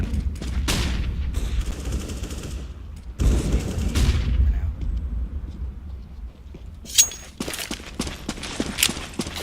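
Video game gunfire with a flashbang: loud bursts of shots and a sharp crack, with a mid-clip pause before more rapid fire and scattered metallic impacts.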